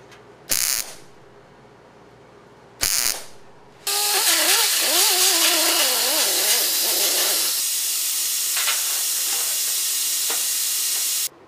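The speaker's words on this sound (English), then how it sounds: "And then I'll put a few tack welds in from the backside" Car cowl vent sheet metal is tack welded from the backside: two short crackling bursts, then a long steady hissing, sizzling weld lasting several seconds, close and loud with no talk.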